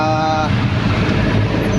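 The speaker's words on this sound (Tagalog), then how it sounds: "medyo traffic dito guys" Congested street traffic in Las Piñas City during a sagala procession, a dense wash of idling cars, trucks and buses close by, with a brief tonal horn or whine at the start and steady engine noise throughout.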